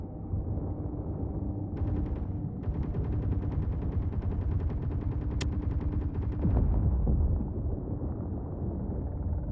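Base turrets firing in the video game Space Engineers: rapid, sustained bursts of automatic gunfire over a dense, rumbling low roar, with one break in the shooting before it resumes and then fades. Nobody speaks.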